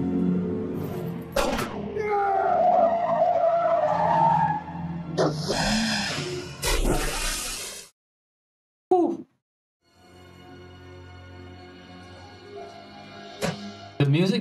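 Tires skid and squeal during a fast movie car chase, the screeching and engine noise loud and sweeping for several seconds under music, then cutting to near silence before softer traffic and sudden impacts return.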